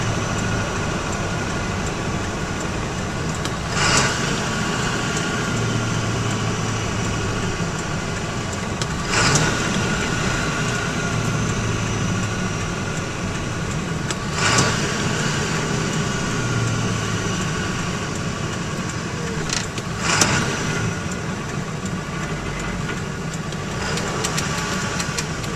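A commercial semi truck's engine drones and rumbles continuously while the transmission is shifted up and down, with a sharp clunk and a change in engine note at each of the regularly spaced gear changes, heard close from inside the cab.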